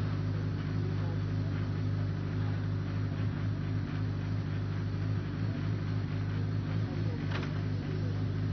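A hillclimb race car at a 2022 British Hillclimb Championship run-off, its engine a loud, steady, continuous drone with no distinct surge or gearchange.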